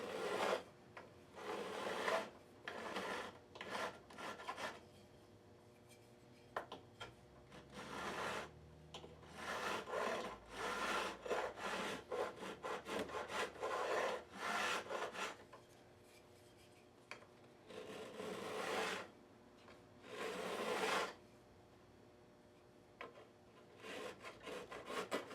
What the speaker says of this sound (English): I am free to do the fret dress end to end without any obstruction.